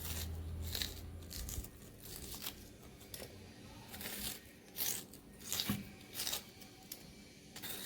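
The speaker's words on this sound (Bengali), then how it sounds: "আস্তে আস্তে আমি ঘুরিয়ে ঘুরিয়ে এই আলুর ভেতরে আলুগুলো বের করে নেব" A spoon scoops out the inside of a whole potato being hollowed for stuffed aloo dum, making soft intermittent scraping and crunching strokes at close range, fairly quiet, with a few sharper scrapes toward the end.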